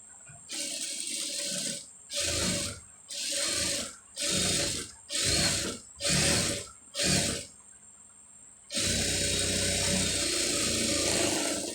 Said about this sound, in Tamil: இதில் வந்து தையல் போட்டுருங்க நீங்கள் வெளிப்பக்கமாக வச்சு போட்டாலும் போடலாம்